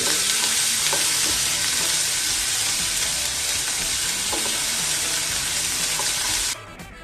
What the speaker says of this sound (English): And we'll just fry it till they are nice and translucent.